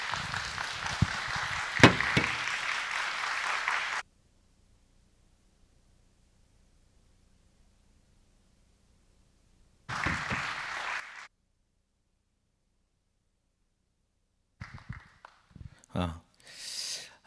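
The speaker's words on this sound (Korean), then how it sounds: "뜨거운 박수로 환영해 주시면 좋겠습니다." Audience applause welcoming a pastor to the stage at a pastors' seminar, a burst of clapping that stops abruptly after about four seconds, followed by silence, a short noisy stretch and later scattered bumps and sounds.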